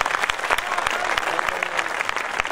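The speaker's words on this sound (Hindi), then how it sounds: "विश्वास भरी तालियां बजाइए" An audience claps continuously at a Hindi poetry recital, a dense, steady wash of many hands with sharper individual claps popping through, no pauses across the stretch.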